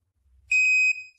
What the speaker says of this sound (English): Once it beeps and blinks at you